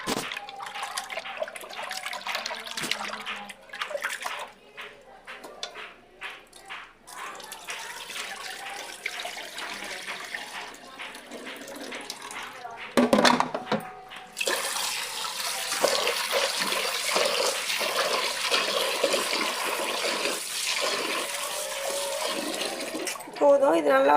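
Yellow lentils are rinsed under running water with hand swishing in the water. The sound is a close, continuous splashing that turns louder and fuller halfway through as the flow increases.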